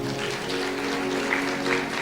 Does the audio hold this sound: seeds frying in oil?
no